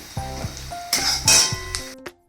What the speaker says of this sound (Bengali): এখানে হচ্ছে পেঁয়াজটা ভাজা ভাজা হচ্ছে মশলার